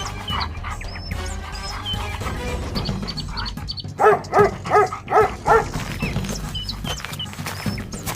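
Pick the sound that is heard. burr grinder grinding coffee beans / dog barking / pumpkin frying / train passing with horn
dog barking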